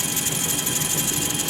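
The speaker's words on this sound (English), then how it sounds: "Kind of a strange grinding sound I'm getting, but everything's working." A lathe machining a diesel engine part with oil as cutting fluid, giving a dense, steady grinding whir with a fine, fast flutter and no pauses.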